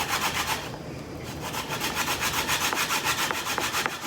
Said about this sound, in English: So I'll start by using the zest of the lemon.